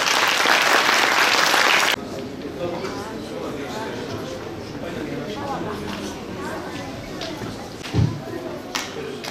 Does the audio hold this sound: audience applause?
yes